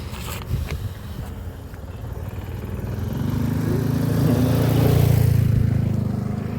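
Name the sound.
motorcycle engine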